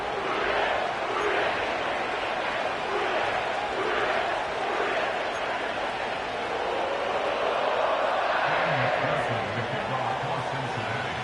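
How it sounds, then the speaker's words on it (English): A sellout crowd at Paycor Stadium in Cincinnati in a Madden football video game roars steadily and broadly throughout, with a voice briefly audible near the end. "Sellout crowd has arrived at Paycor Stadium in Cincinnati."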